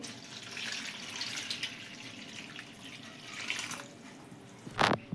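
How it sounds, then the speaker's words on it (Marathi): Chopped spring onion greens rinsed under running tap water in a sink, a steady soft stream with occasional splashes and a louder gush near the end. "आता आपण ही दोन पाण्याने स्वच्छ धुवून घेऊ"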